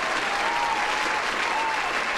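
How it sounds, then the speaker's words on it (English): Applause for a quiz winner on a gaming show: a dense, steady burst of clapping and crowd noise, loud and close, lasting a couple of seconds with a faint voice beneath it. "Here's your round of applause."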